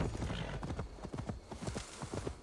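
Hooves of a horse clip-clop in a Viking video game, a quick, steady run of soft thuds at moderate distance, fairly quiet, with faint game ambience underneath.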